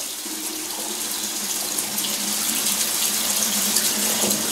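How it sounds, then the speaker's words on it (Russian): Water runs from a household tap and drains freely after the sewer line has been cleaned, a steady loud gush with no pauses. "Пошла вода в хату"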